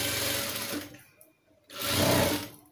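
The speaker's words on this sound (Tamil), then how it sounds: "திரும்ப அதே 1/4 இன்ச் கணத்தில் தைக்க ஆரம்பிக்கணும்." Sewing machine stitching the neckline of a blouse, running in two loud close bursts of rapid whirring with a short pause between them.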